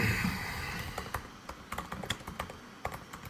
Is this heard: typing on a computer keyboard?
yes